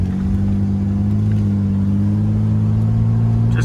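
A 1987 BMW with an inline-six engine drones steadily while driving, a loud, constant low engine tone running throughout with no voices.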